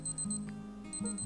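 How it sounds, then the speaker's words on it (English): A Casio MWD110H digital watch countdown timer beeps in short, rapid high-pitched bursts, repeating in groups with brief pauses between them, close and clear. "the beeping lasts for about 10 seconds"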